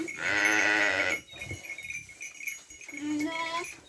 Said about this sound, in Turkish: Evet kuzularımız annesiyle buluşturduk.